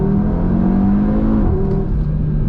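A 2019 Audi TT RS in dynamic mode accelerating hard through one gear, its five-cylinder engine droning loud and steady from inside the cabin with a rising, continuous growl and no talk.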